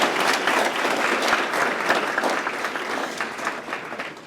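A room full of people applauds for a birthday at a training session: dense, steady clapping holds at an even, fairly loud level for the whole stretch, with no talking over it.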